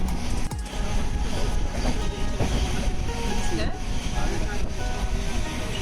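A passenger train on a long journey from Kerala to Goa travels along the rails, giving a steady, loud rolling rumble with a broad hiss that fills the whole stretch without a break.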